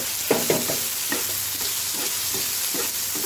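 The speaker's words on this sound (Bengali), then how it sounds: "সিদ্ধ করে রাখা মাংসগুলো দিব, দিয়ে ভালো করে নেড়ে নিব" Boiled beef sizzles and crackles in a pan with chopped ginger and garlic, loud and close, as a spatula scrapes and stirs in quick strokes over a steady frying hiss.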